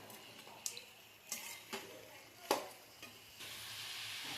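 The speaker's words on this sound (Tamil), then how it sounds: "நாட்டுக்கோழியை இதில் போட்டுடணும் போட்டு இப்போ அதை நல்லா கிளறி விடணும்" Country chicken being stirred with masala in a pan for a pepper chicken fry: faint scrapes and clinks of a spoon against the pan over a soft, steady background sizzle that grows toward the end.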